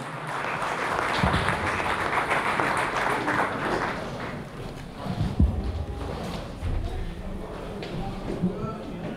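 An audience applauds a professor at a Christmas carol concert evening in Dărmănești: a steady wash of many hands clapping for several seconds, with some louder bursts and a little crowd noise mixed in.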